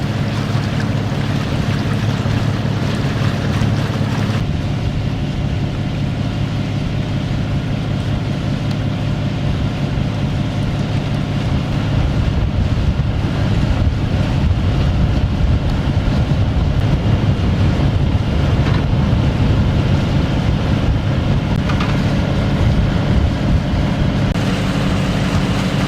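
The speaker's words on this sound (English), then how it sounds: "Motoring hard up Loch Ness, far harder than I would like" A sailing boat motors hard up Loch Ness in wind and soft rain, its engine a steady loud drone with rushing water and wind noise throughout, no voices.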